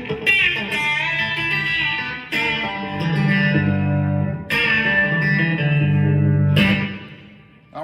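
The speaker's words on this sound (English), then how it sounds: "This whole lick is going to be based all the way down the neck on the 4th and 2nd string in isolation with your bender." Country-style B-bender electric guitar lick played on the 4th and 2nd strings working down the neck, sustained bent notes and slides in several phrases with reverb, loud and alone.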